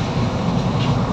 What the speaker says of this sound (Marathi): बाकी बाहेर ट्रेन चालली हळूहळू चालत,